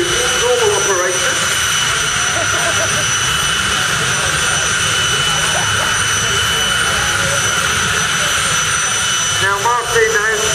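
A helicopter turbine engine mounted in a drag car runs at a steady, loud, whining roar that fills the whole clip, with no break in the sound.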